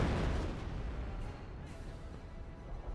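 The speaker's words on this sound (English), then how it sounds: "Artillery barrage up here." An artillery barrage from the World War II strategy game Company of Heroes: a dense, rumbling roar of shelling explosions that starts loud and stays heavy and continuous to the end.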